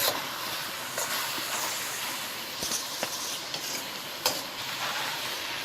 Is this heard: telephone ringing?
no